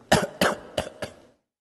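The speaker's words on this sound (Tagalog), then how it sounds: "Umuubo." A person coughing heard through a played-back voice message, four sharp coughs in quick succession within about a second, fairly close and alone.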